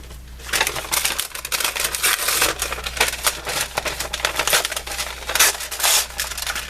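Paper envelopes are torn open and handled up close, a rapid series of crisp rustling, crackling bursts with brief pauses in between.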